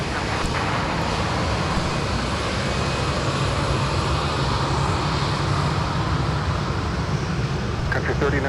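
A Prime Air cargo plane in from Cincinnati rumbles at Minneapolis–St. Paul airport on a winter day, a steady, fairly loud engine roar held throughout with no gaps.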